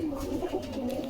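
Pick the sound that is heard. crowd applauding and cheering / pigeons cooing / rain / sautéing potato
pigeons cooing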